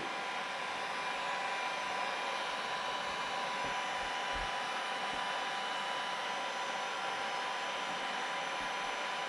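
A heat gun blows steadily, warming glue on a car dent during paintless dent repair, a loud constant hiss and whoosh of hot air heard close up without a break.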